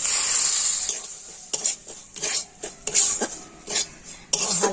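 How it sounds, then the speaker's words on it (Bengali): Semolina stirred and fried in a spoonful of ghee in a wok, with repeated scraping stirs and soft sizzling, close and clear, no talk. "তো সুজিটা এখন আমি ঘিয়ের উপর দিয়ে দিচ্ছি।"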